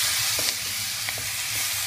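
Cauliflower (gobhi) with salt is stirred in a hot pan: a dense, continuous sizzle with soft scraping strokes underneath, close and fairly loud, with no talking.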